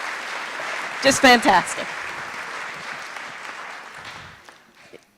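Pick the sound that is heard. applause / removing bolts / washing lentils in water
applause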